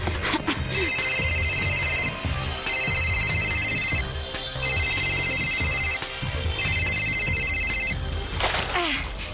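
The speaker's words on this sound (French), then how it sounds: "Allez, Yumi, décroche." A telephone in an animated cartoon rings in four evenly spaced bursts of bright electronic trilling, loud and close over busy background music and effects.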